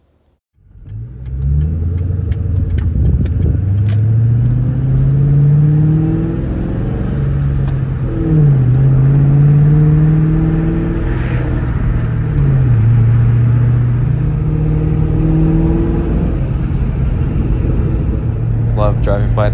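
A blue Ford Mach 1 Mustang drives on a road, its engine rumbling loud and steady throughout with rising and falling rev sweeps as it accelerates and shifts.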